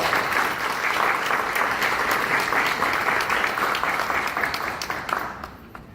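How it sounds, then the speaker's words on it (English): An audience at an FASD meeting applauds the organizers, a steady wash of many hands clapping at full strength that tapers off in the final second. "can we give them a warm round of applause?"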